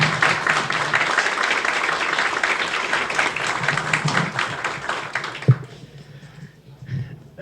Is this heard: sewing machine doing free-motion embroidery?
no